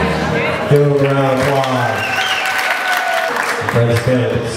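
Guests clap at a wedding celebration after a special dance, a short burst of applause heard beneath music and a speaking voice.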